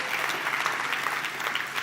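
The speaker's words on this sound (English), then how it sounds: "Can we give them a round of applause?" Audience applause for a Safaricom choir performance at a launch event, steady dense clapping from a crowd held at an even level throughout, with no voices over it.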